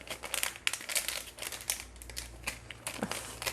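A crinkly plastic package is torn open and handled up close: dense, continuous crumpling and crackling with sharp rustles throughout, and no talk.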